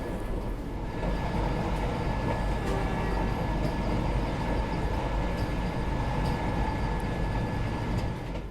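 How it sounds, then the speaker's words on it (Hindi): A passenger train rolls slowly through Unchahar Junction station on the route from Lucknow to Kanpur. A steady rumble and rattle of wheels and carriages runs throughout at close range, with faint clanks and a thin high whine. "फिलहाल अपनी ट्रेन ऊंचाहार जंक्शन को स्किप कर रही है और प्लेटफॉर्म साइड से स्किप कर रहे हैं हम लोग धीमे धीमे रफ्तार में"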